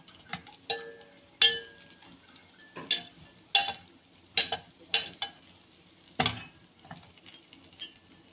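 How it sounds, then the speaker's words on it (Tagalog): Longganisa sausages fry in a pan and are stirred, producing a series of separate scraping and clattering strokes at an irregular pace over a quiet sizzle, close and alone. "Halo-haloin lang para hindi masunog."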